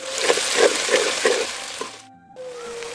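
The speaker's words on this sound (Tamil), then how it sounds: "முந்நூறு கிராம் நறுக்கி வச்சிருந்த சின்ன வெங்காயத்தை சேர்த்து நல்லா வதக்கிடுவோம்" Close-up sizzling hiss of chopped small onions sautéing in a pan, with rhythmic bursts of stirring, then the hiss softens and briefly drops away.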